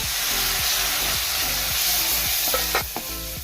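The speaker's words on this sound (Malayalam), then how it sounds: "ഒരിത്തിരി ചൂടുവെള്ളം ഒഴിച്ചു കൊടുക്കണം നമുക്ക്" Hot water hits a pan of frying masala for a Kerala-style crab roast, giving a steady close sizzle with scraping stirs and a few clatters of the utensil against the pan near the end.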